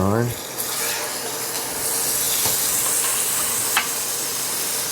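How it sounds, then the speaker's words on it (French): Tablespoon of butter heating in a frying pan, giving a steady hissing sizzle that fills the clip, with a few faint clinks of utensils and no talking. "je me fais chauffer une cuillère à soupe de beurre ici comme ça"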